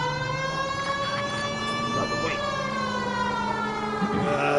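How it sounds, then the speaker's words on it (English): Police car siren in the LA Noire video game wailing steadily and loudly, its rising and falling tone filling the whole stretch with faint engine and game noise beneath, no talking. "We have a siren."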